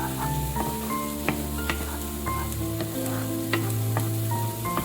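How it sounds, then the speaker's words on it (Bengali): Paneer for paneer butter masala sizzles and crackles in a hot pan over low-to-medium heat while a utensil stirs and scrapes, with occasional clicks against the pan, close and steady. "আছে খুব ভালো করে এটা ভেজে নেব"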